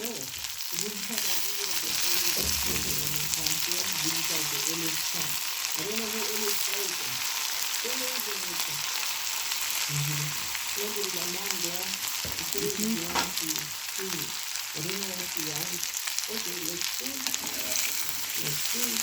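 Omena, small Kenyan silver fish, frying in a pan: a steady loud sizzle and crackle runs throughout, with a voice talking over it at intervals.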